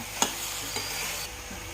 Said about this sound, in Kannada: ಈರುಳ್ಳಿ ಬೆಂದಿದೆ ಇವಾಗ ಸೊಪ್ಪು ಹಾಕ್ತಾ ಇದ್ದೀನಿ ಸೊಪ್ಪೆಲ್ಲ ಹಾಕ್ಬಿಟ್ಟು ಅದು ಒಂದು ಸ್ವಲ್ಪ ಬಾಡಿಸ್ಕೋಬೇಕು